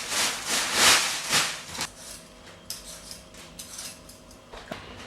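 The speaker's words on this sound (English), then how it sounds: "We start off by peeling the potatoes" Raw potatoes being peeled in a home kitchen for mashed potato: a few loud, close scraping strokes of a peeler at the start, then quieter scattered scrapes and small knocks.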